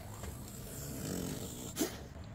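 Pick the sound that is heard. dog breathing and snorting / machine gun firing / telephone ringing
dog breathing and snorting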